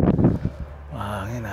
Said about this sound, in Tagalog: Uy, mahangin.